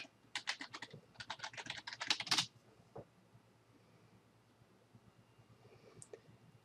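A computer keyboard clatters in a quick burst of keystrokes while a library login is typed, close and crisp, followed by a few isolated clicks and then near silence.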